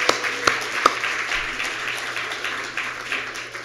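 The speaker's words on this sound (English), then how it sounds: "let's have a round of applause for our students and volunteers" Brief round of applause at a hackathon event for students and volunteers, a steady wash of clapping from an audience in a room with a few sharper claps standing out, moderately loud throughout.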